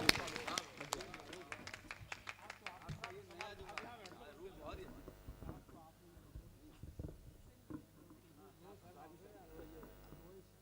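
Applause from the audience at an open-air Hindi kavi sammelan poetry gathering in Achalda, Auraiya: a burst of crowd clapping loud at first, gradually thinning and fading into scattered claps, with voices underneath.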